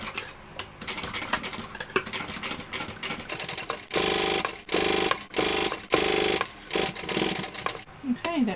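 Sewing machine topstitching a Verona tote bag, loud rapid mechanical whirring in several bursts of one to two seconds separated by short pauses.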